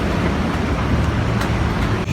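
Steady traffic rumble at a busy bus terminal, buses and cars idling and moving close by in a continuous, loud wash of engine noise with no clear gaps.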